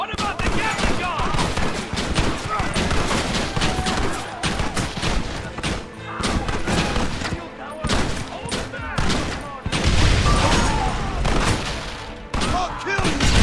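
Gatling gun firing in Red Dead Redemption on Xbox 360, loud sustained rapid bursts of machine-gun fire with brief pauses between volleys, a dense rattling barrage that lasts throughout.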